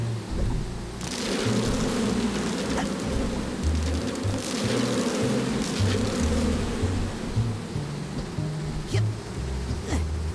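A swarm of bees buzzes loudly and steadily in the video game Psychonauts 2, close and continuous with a droning hum and a few faint clicks.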